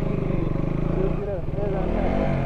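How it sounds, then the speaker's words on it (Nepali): A single motorcycle sped past on a road, giving a loud, steady engine drone that swells and shifts pitch as it passes, mixed with people talking. "एउटा केटा सिङ्गल बाइकमा अलिक कुदाउँदै गयो"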